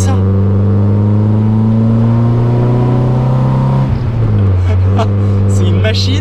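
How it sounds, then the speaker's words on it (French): A car engine revs loudly and steadily, its pitch holding high, then dipping and climbing again as the motor winds up, with no voices over it. "On a vraiment un moteur qui prend des tours et c'est très agréable."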